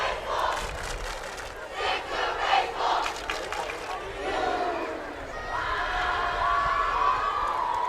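Crowd at a high school football game shouts and cheers continuously, voices swelling and rising in waves at a distance, with a raised chant near the end.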